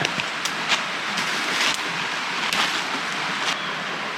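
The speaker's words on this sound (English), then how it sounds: "It's starting to rain." Steady rain beginning to fall in a Tennessee forest along an old railroad bed, a continuous hiss of drops on leaves with occasional louder patters, fairly close and without talk.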